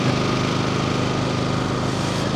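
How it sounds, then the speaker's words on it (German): A power generator drones loudly and steadily nearby at the Dakar Rally, a constant engine hum with no breaks. "Wenn ich ein typisches Dakar-Geräusch beschreiben müsste, wäre das so ein Stromerzeuger."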